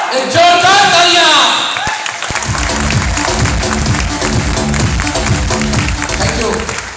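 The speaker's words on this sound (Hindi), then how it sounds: "एक जोरदार तालियां।" A crowd at a Bihar Sharif diamond celebration event bursts into loud, steady clapping and cheering, filling the room for several seconds after a brief spoken lead-in at the start.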